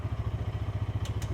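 A Massimo Buck 450 4x4 side-by-side idles with a steady, fast, even low thrum up close, and two brief sharp clicks are heard near the end.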